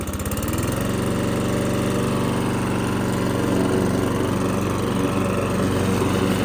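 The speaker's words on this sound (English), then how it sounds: "we'll spool this thing up to full power and let's mow some grass" A vintage Honda HRS-21 lawnmower revved to full power while mowing grass, a loud continuous engine drone close by, steady throughout with no talk.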